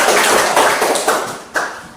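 Classroom of students clapping hands together, a dense close burst of claps with a few sharper rhythmic accents, tailing off quickly.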